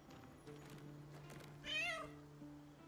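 A cat in a video game gives one clear, rising meow over soft, sustained background music tones.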